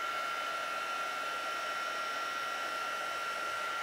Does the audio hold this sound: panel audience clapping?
no